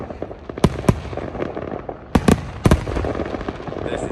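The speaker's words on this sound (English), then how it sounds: "Vlog day 2, well, day 1, and more fireworks." Fireworks burst at the Goodwood Festival of Speed, with several sharp bangs in quick pairs over a constant crackling and rumbling outdoor backdrop, some loud and close, others more distant.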